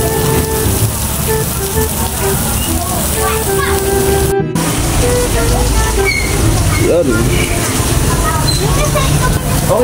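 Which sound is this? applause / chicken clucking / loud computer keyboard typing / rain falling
rain falling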